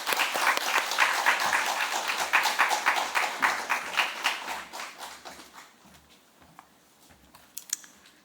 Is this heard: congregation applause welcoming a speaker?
yes